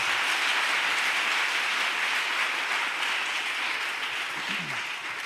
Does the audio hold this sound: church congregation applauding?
yes